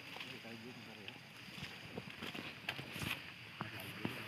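A fast-flowing river near rice fields in Mancak, Banten gives off a steady broadband rush beneath frequent nearby voices, with wind buffeting the microphone at times.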